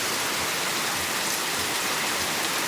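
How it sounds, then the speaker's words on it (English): Heavy rain pouring steadily onto a flooding yard, a dense, even hiss of water with no breaks, heard alone at moderate loudness. "we're trapped in the house because of the rain"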